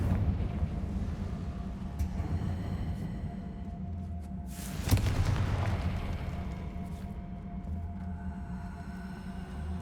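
Confringo fire spell blasts in Hogwarts Legacy, a steady rumbling wash of magical combat with one sharp, louder explosive burst near the middle, sitting over a continuous low game score.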